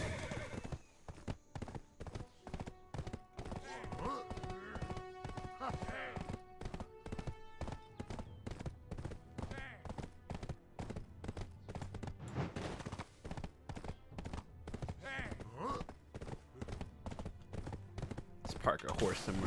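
Horse hooves clip-clop in a steady rhythm in the online fantasy game Black Desert Online, with whinnies breaking through and busy game sounds layered around them, and someone talks over it.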